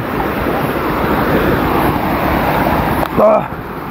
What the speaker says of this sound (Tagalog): Yun yung talon.